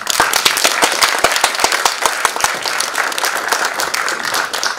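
Dense, loud applause from an audience at a ceremony granting honorary citizenship to an ambassador in the city of Suceava, steady sharp claps running throughout with no talk.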